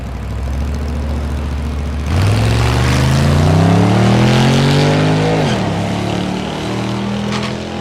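Drag race cars, a Mustang and a Nissan hardbody among them, sit at the start line at Thunder Valley in Noble, Oklahoma. Loud engines idle with a rough burble, then rev up in a rising, steady climb before settling back down.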